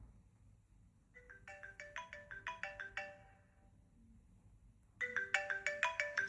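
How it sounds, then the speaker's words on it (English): A 32GB iPod Touch 4th generation plays a ringtone in two quiet bursts of bright, rapid chiming notes, separated by about two seconds of near silence. "Can have a look at some of the old ringtones while we're here."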